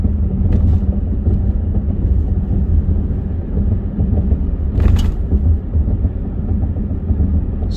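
Car driving on concrete pavement along Route 66, with a steady low rumble of tires and road noise heard from inside, plus a brief louder buffet of wind or a passing vehicle midway.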